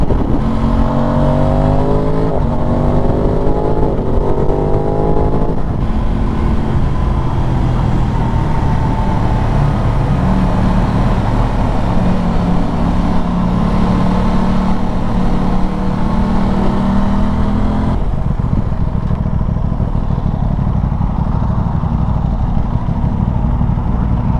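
An Aprilia Tuono 660 Factory motorcycle engine drones loud and close while riding, its pitch rising through smooth gear shifts and then settling into a sustained cruise, with no talking.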